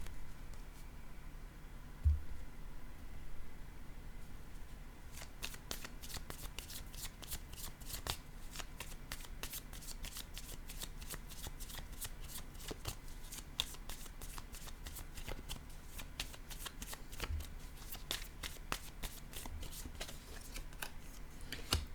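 Tarot cards are shuffled close up, starting with soft handling and then moving into a long run of rapid, crisp riffling flutters that repeat steadily at an even volume.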